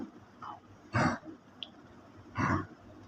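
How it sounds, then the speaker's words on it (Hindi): An elderly dog coughs twice, each a short harsh hacking burst about a second and a half apart, fairly close in a quiet room with faint background hiss between. "वन ऑफ माय डॉग्स, उनको खांसी हुई है"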